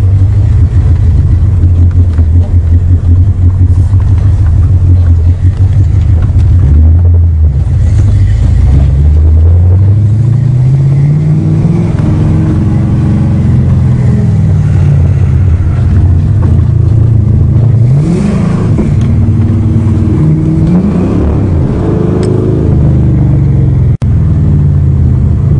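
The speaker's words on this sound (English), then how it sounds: "The rapid delivery car." A small car nicknamed the rapid delivery car drives along, its engine rumbling loud and close as the pitch rises and falls through gear changes and acceleration, with no talking.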